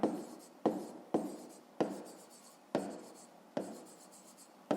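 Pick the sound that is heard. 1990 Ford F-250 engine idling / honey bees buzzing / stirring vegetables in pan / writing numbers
writing numbers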